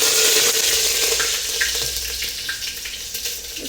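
Mustard seeds and curry leaves crackle and sizzle in hot tempering oil for a ganike-greens saaru, a steady close hiss dotted with small pops that eases slightly toward the end.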